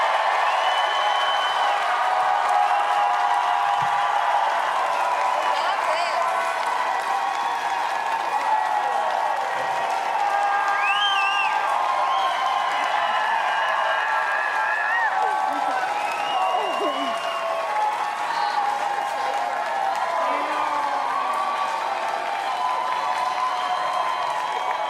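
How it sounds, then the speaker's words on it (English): Large convention crowd at a Star Wars Celebration event gives a loud, sustained round of applause with cheering, steady dense clapping filling the hall throughout, with a few whoops rising above it. "I would like everybody in this audience to just give them the loudest round of applause and love that you can."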